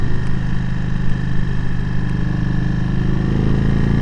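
2020 Indian Chief Darkhorse motorcycle engine while riding through curves, a loud close deep rumble with steady throb and continuous road and wind noise, holding an even pitch throughout.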